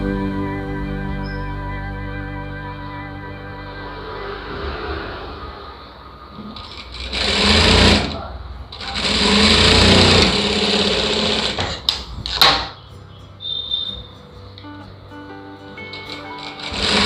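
A sewing machine stitches the lining of a blouse in bursts of fast, close mechanical whirring, with quieter gaps where the fabric is repositioned.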